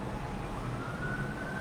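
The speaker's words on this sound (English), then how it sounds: "You hear police sirens and all that." A police siren wails somewhere in a city neighborhood, a sustained rising tone carried over a steady rumble of traffic noise.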